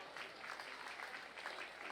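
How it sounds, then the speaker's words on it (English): Audience members clap for young exhibitors after a class of Berkshire gilts at a livestock show, a brief, faint patter of scattered hands with a little crowd murmur. "Go ahead and give all those individuals a round of applause."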